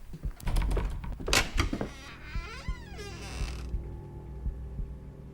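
A door creaks open in a horror video game, with a long wavering creak among knocks and clunks, then a low steady hum.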